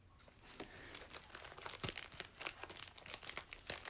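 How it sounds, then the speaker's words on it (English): A thick deck of playing cards is shuffled and mixed by hand at close range, giving a quiet, continuous rustling and crinkling with small riffling bursts. "Shuffle them up."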